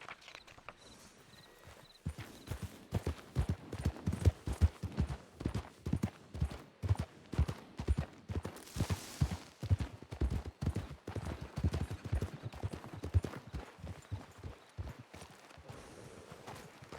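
Horse hooves clop steadily in the Red Dead Redemption roleplay game RedM, a quiet but continuous rhythmic patter of many hoofbeats, as if horses are walking along a trail, with no other sound over them.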